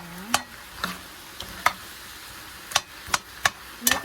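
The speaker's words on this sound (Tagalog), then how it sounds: "Haluin natin" Tomato paste being stirred in a pan for pork rib caldereta: a spoon scrapes and knocks against the pan in sharp, separate strokes, about eight over a few seconds, over a faint background with no talk.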